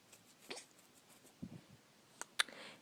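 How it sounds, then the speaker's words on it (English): A baby hiccups a few times, soft and quick, each hiccup a brief isolated pop in an otherwise quiet room, with the last ones slightly sharper. "Do you have the hiccups?"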